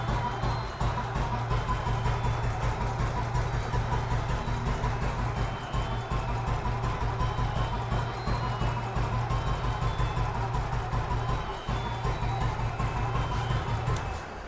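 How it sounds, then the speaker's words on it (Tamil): A completely restored vintage Royal Enfield motorcycle engine idles steadily at close range, with an even, continuous low thumping pulse throughout. "இன்ஜின் ரொம்ப சூப்பராக நின்று ஓடும்."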